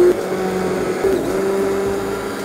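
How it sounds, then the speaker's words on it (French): A blender whirs steadily as it purées a chilled melon soup laced with muscat, a continuous motor drone with a slight pitch change partway through. "Et là on va mixer."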